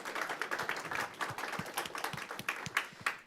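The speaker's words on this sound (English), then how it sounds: "So can I get a round of applause for everyone here today for coming tonight?" An audience at an evening community gathering claps in a light, sparse round of applause. The claps are scattered and moderately quiet, with no talk over them.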